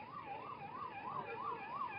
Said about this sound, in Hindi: देखो एम्बुलेंस है क्या?